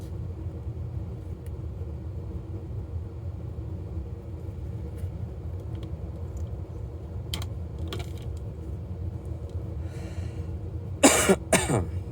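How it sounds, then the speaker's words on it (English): A short burst of coughing near the end, close by, after a long stretch of steady low background rumble with a few faint clicks. "I got a little cough here"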